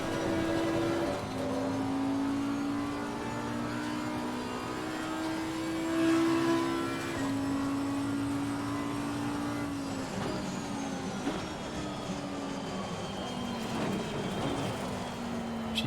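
A racing car engine in Assetto Corsa Competizione at Silverstone drones steadily throughout, its pitch rising and falling with gear changes, with no talking over it.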